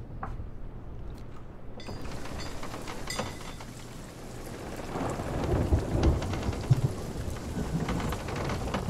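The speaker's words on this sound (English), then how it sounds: "I forgot about rain and ships and sinking." A rainstorm at sea in the pirate video game Sea of Thieves: steady heavy rain hisses on surfaces while deep thunder rumbles and swells louder, with scattered sharper cracks. No one speaks.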